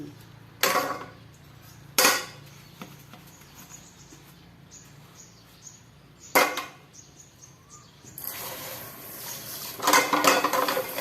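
Dishes, pots and pans being washed by hand with a scouring pad: a few sharp, separate clanks of crockery at intervals over a quiet background, then a rougher stretch of scrubbing and rattling near the end.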